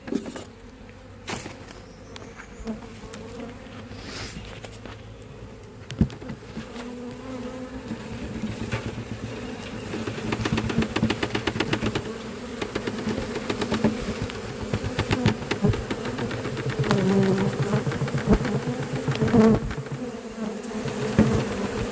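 Dense, continuous buzzing of a captured honeybee swarm pouring out of a bag into a new hive, growing louder and fuller midway and staying close, with occasional handling knocks and no speech.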